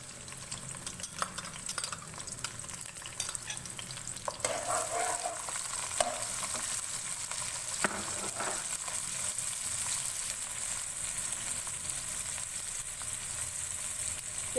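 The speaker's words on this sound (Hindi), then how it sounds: "प्याज को हम हल्का सा फ्राई करेंगे।" Sliced onion frying in hot oil in a pan, a steady close sizzle punctuated by scraping stirs early on, then settling into a continuous hiss with no voices.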